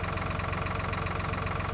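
A tractor engine idles steadily in a farming simulator game, a dense continuous low rumble with an even mechanical throb, close and constant throughout with no talk.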